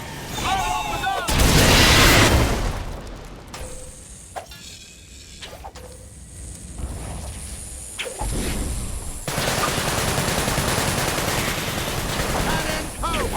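Gunfire and heavy cannon blasts from the Sunset Overdrive video game boom and crackle in loud bursts, with whooshes and a sustained rumbling barrage, while voices shout over the action.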